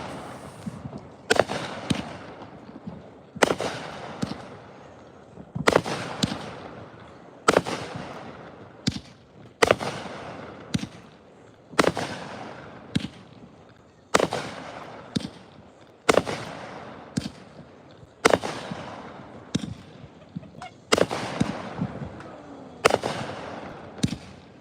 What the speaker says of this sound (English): We got people all around us doing fireworks